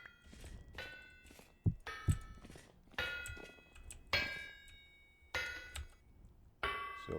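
Metallic clangs and dull knocks of hammering while building in the video game Vintage Story, struck in spaced single blows and short pairs, moderately close with soft background noise between hits.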